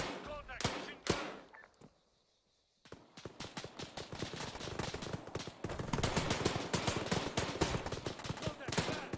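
Enemy machine gun fire in the Arma 3 military game, rapid bursts of loud automatic shots after a short silence, continuing densely to the end alongside other clattering gunfire.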